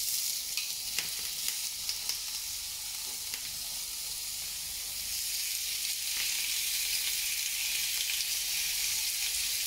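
Pork tenderloin sizzles steadily in a hot grill pan with herb-infused oil, a continuous close frying hiss with faint crackles and no talking.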